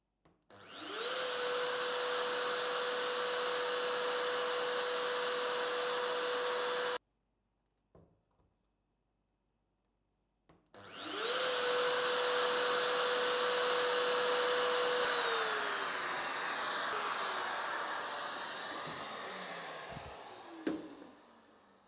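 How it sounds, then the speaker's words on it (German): A dowel jointer drills holes in oak table parts, its motor whining loud and steady for about seven seconds, then a pause with a few clunks, then a second long run that winds down with some knocks. "wir bohren erstmal oben sozusagen alle Löcher"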